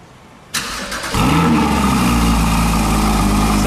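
A Porsche Cayman GT4 engine with stock exhaust cranks and fires up with a sudden burst, then revs and settles into a loud, steady rumble nearby.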